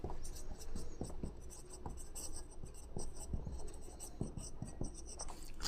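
An equation is written by hand, with quick, scratchy pen strokes and light taps close by, faint and steady with brief pauses between marks.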